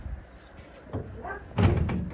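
Large heavy doors on a big monster military-style vehicle thud and clunk, with a sharper slam near the end, close by and fairly loud over a low rumble.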